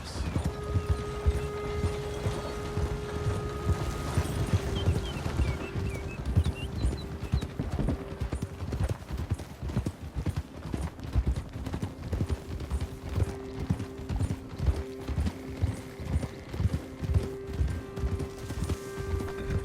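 Steady clip-clop of horse hooves in Red Dead Redemption 2, in a regular walking rhythm, close and fairly loud, with a faint mechanical hum and tones running underneath.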